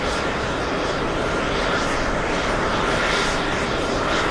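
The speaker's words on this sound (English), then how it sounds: "777 on short final" A Boeing 777 airliner on short final approach at JFK airport, heard as a continuous loud broadband engine roar that holds steady throughout, close overhead and drowning out everything else.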